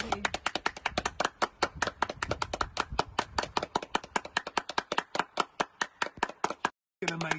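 Members of the British public clap for COVID-19 frontline workers, sharp hand claps in a fast, steady rhythm close by that stop briefly near the end.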